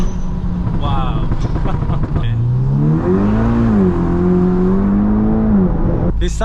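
A 400bhp VW Scirocco R accelerates, its engine note climbing loud and steady from inside the cabin while people talk over it.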